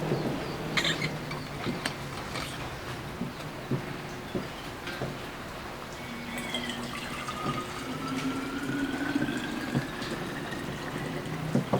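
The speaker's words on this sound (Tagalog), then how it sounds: "itong brown na tumbler is lagyan natin ng hot water" Hot water pours steadily into a container, the tone rising gradually as it fills, with a few clinks and taps along the way.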